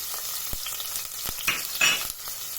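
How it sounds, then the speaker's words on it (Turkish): Onion and garlic frying in oil, a steady crackling sizzle with occasional scraping stirs, close and continuous with no talking. "2 dakika kadar kavuruyorum soğanlarımı."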